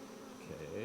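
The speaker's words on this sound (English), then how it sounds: "Bees are feeding each other" Honey bees buzzing steadily around an opened brood box of a hive during an inspection, a continuous close, soft drone without any voices.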